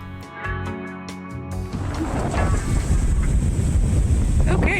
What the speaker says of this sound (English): Okay, crazy windy.